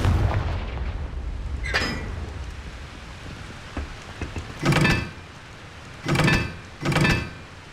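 Fire spell blasts in the Hogwarts Legacy video game, heard as several short, sharp bursts, one early and three close together later, each cutting through a low, quiet game background.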